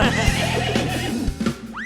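A horse gives a loud, close, drawn-out whinny lasting almost two seconds. Its shaky pitch rises and falls, and it ends with a sharp upward squeal.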